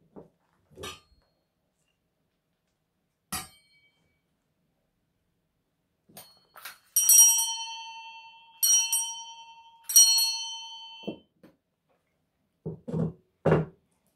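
Ceremonial bell struck three times during a proclamation ceremony, each stroke clear, ringing and slowly fading, with faint knocks and shuffling before and soft sounds after.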